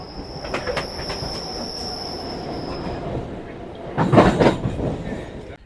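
An electric local train runs at high speed on the Barddhaman–Howrah chord line, with a sustained high wheel squeal, steady rail rumble and a burst of louder clattering rattle near the end, heard from inside.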